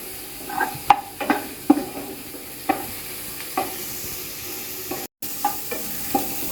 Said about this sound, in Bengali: রসুনটা খুব ভালো করে মাখুনের মধ্যে ভেজে নিচ্ছে আম্মু